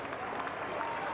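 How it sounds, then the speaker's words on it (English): Spectators at a 1987 North Melbourne versus Brisbane Bears football match applaud as a player leaves the field, a soft, distant wash of crowd clapping and murmur with no breaks. "Applause for Schimmelbusch leaving the field."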